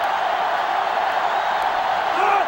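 A sellout stadium crowd roars steadily at a football video game, a dense continuous wash of voices with faint whoops, loud and constant throughout.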